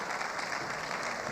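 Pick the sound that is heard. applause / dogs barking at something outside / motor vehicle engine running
applause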